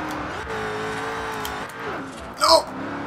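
A car drifts in the racing game Forza Horizon 2, its engine revving up and down in sweeping pitches, with a short sharp tire squeal near the end.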